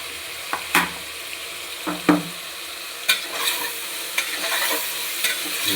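Rice roasting in plenty of oil with turmeric for vangibath, a soft steady sizzle under intermittent scrapes and clinks as a spoon stirs it around the pan, close with no speech.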